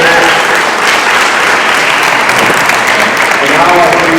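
A crowd at a nonprofit anniversary gathering applauds three board members, with sustained loud clapping from many people and murmured voices mixed into the wash.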